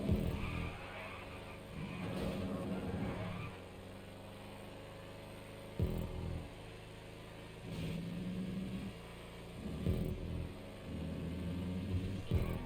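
Muscle cars racing in GTA Online, a faint steady engine drone that swells and dips in repeated surges, with a low rumble and occasional brief bursts suggesting tire scrubbing.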